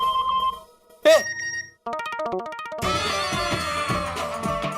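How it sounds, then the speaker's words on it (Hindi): A mobile phone message notification tone chirps once, short and prominent, between stretches of background music in a Hindi TV sitcom scene. "टप्पू का मैसेज है।"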